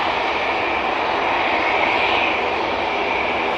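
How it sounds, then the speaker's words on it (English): An EasyJet airliner at Manchester Airport, its jet engines giving a steady, broad, loud roar that holds without break throughout. "Easyjet now coming on."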